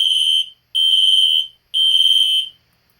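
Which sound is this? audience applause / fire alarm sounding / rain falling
fire alarm sounding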